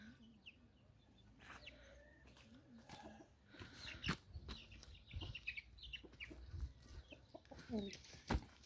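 Young chicks being moved from a brooder into an outdoor chicken coop, with soft peeping and clucking calls scattered throughout amid rustling and handling noises.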